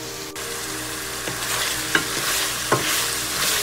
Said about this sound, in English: So we're going to stir this shrimp, and we're going to let this cook for a couple minutes.